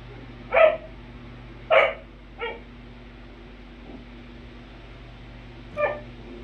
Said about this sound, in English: He knows how to bark already.